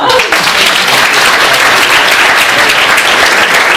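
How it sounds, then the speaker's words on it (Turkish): Loud, dense audience applause at a Turkish event fills the whole stretch steadily from near the start, with no talk over it. "bir alkış alalım"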